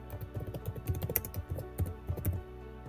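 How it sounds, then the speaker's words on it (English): Rapid typing on a computer keyboard, a close and steady patter of key clicks running for about three seconds without talk. "To the right hand side, we're going to type in the name of the heading."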